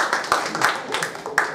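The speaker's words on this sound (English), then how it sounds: "A round of applause," Dragon boat class participants clap together in a short round of applause, with rapid, close hand claps in a burst of uneven rhythm.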